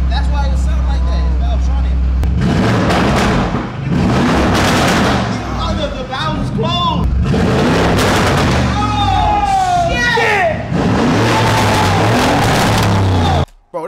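A widebody Lamborghini Urus with a loud exhaust roars continuously and close, with surging bursts over a steady low rumble, while people talk excitedly over it throughout.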